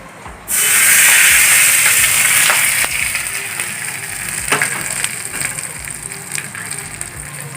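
A hot tempering of curry leaves and green chilli is poured into coriander leaf chutney, and a sudden loud sizzle bursts out. The strong hiss holds steady at first, then slowly eases into a fizzing crackle with small pops.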